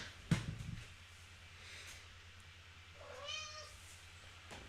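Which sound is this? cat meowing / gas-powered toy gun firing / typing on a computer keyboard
cat meowing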